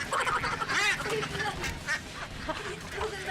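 Ducks on a duck farm quack repeatedly, close by and fairly loud, in a busy flock. People talk over the birds the whole time.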